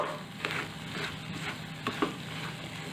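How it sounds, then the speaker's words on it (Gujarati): Corn chevda with grated coconut being stirred and mixed in a pan over a low to medium gas flame, soft repeated scraping strokes over a quiet sizzle. "હવે સરસ આપણે બધું મિક્સ કરી લઈશું"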